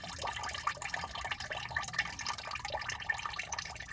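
Water drains steadily out of the engine block of a 1959 Dodge Coronet, a continuous close trickling and splashing with small drips and no voices.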